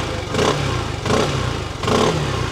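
A Cyclone RT4 motorcycle engine idles close by and is revved three times in quick succession, each blip rising and falling.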